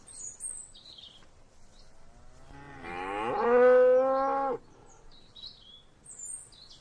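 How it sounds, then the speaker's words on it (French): A cow lets out one long, loud, drawn-out moo in a barn, rising and holding before cutting off, with faint bird chirps in the quiet around it. "On voit les vaches qui regardent."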